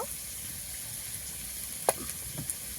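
Chili powder masala sizzles in oil with fried garlic, a soft, even frying hiss at low level with a couple of faint clicks from a spoon or pan.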